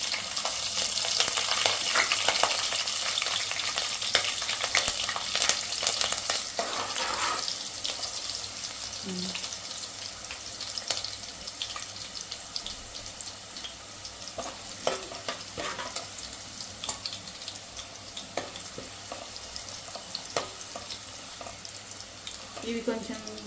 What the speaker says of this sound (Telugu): ఇప్పుడు మనం కొంచెం పచ్చిమిర్చి వేసుకుందాం.